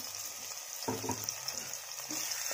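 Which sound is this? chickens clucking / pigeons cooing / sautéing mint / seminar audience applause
sautéing mint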